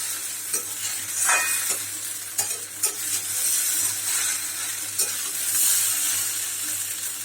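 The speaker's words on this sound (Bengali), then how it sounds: "আরও পাঁচ দশ পাঁচ থেকে দশ মিনিট আর একটু ভাজতে হবে" Soya chunk chowmein frying in a pan, Bengali style, with irregular spatula scrapes and clinks over a continuous close sizzle, moderately loud with no talk.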